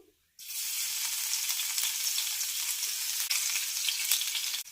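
Mustard seeds pop in hot oil with asafoetida and crushed garlic, a loud, steady sizzle that starts abruptly after a short silence, with scattered crackles and pops close up.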